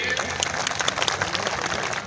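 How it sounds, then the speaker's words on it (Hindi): A crowd claps at a Suheldev Bharatiya Samaj Party rally in Sitapur to welcome a new party member, with steady, dense applause running throughout and voices mixed in. "जोरदार ताली बजा के स्वागत करिए"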